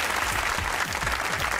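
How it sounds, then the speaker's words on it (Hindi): Studio audience applause on a Pakistani comedy talk show, a dense steady clapping of many hands throughout, loud and close with no talking. "तालियां"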